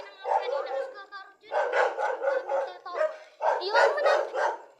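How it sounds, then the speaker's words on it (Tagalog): Dogs bark in several bursts, some close and loud, with brief gaps between them and a few words spoken. "Maraming aso dyan."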